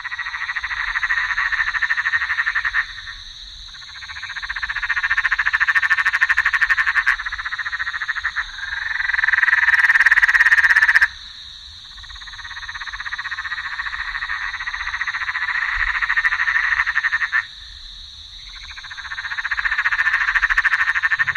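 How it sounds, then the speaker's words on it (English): A loud, continuous chorus of Australian frogs croaking in the wild at Stewarts Crossing, Charleyong, pulses in long overlapping waves, with a high steady trill running throughout. "just in case you've never heard Australian frogs in the wild"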